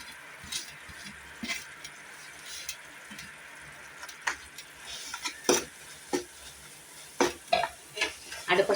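Roasted flour and milk powder are stirred into a coconut-sugar mixture in a pan over a soft, low sizzle. Scattered scrapes and taps of the utensil grow more frequent and louder toward the end, and nobody talks.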